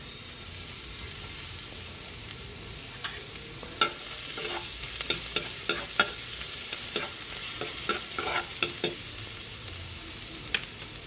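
Butter and garlic fry together in a pan, a soft steady sizzle broken by frequent sharp crackles and pops as the garlic spits, fairly close, with no talking.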